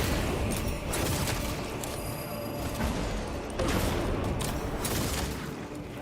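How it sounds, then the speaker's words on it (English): Frag grenade explosion in a shooter video game amid dense gunfire, a loud rumbling burst within continuous crackling fire and booms, with no talk. "Throwing frag grenade."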